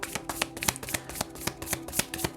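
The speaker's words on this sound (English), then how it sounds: "So I'm going to shuffle on camera first" A new deck of tarot cards is shuffled close up, a rapid run of crisp riffling snaps and soft slaps in an uneven rhythm, with no talking.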